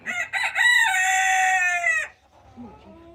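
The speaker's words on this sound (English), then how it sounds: "All of the roosters have decided that it's time to make themselves known." A rooster crows once nearby, a long drawn-out call after a couple of short clucks, followed by quiet farmyard background.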